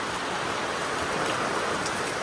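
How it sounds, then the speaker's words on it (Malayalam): Heavy rain pours down in a dense, steady hiss, loud and unbroken throughout. "നമ്മൾ വീഡിയോ എടുക്കുന്ന ടൈമിൽ തന്നെ നല്ല മഴ പെയ്യുന്നുണ്ട്"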